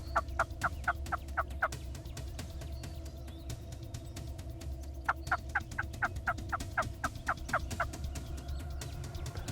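Wild turkeys gobble and call during a Texas hunt, with two bursts of rapid, evenly spaced calls ringing out at a moderate distance over steady outdoor background noise.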